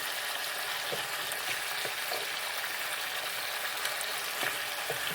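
Bits of ginger and garlic fry in a pan for a chicken ramen soup, giving a dense, even sizzle up close, broken by faint stirring scrapes and taps, with no talking.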